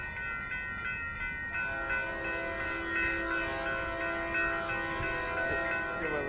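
A northbound Union Pacific mixed freight train with BNSF units passes Houston Street in Buda, Texas, with a loud, steady rumble and sustained tonal squeal or horn lasting throughout.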